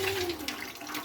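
Tap water runs from a kitchen faucet through a PUR filter, a brief, soft, steady hiss and splash without talking.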